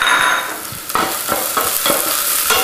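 Quarter of a red onion and chopped garlic cloves sizzle in olive oil, a bright continuous hiss broken by several scraping stirs of a utensil through the pan, close and alone.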